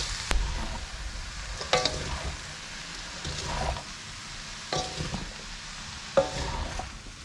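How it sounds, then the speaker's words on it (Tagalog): Milkfish filling with bell pepper is stirred in a hot pan, giving a continuous sizzle with several distinct scraping stirs and clacks of the utensil against the pan, close and fairly loud, with no voices. "Ayan po, at pagkatapos ay hahaluin natin maigi"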